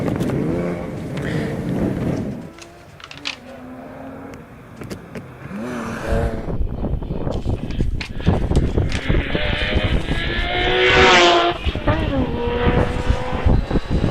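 A Porsche Boxster hillclimb race car at Harewood roars past with a rising and falling engine note, loud and close amid wind buffeting, under excited commentary from an announcer.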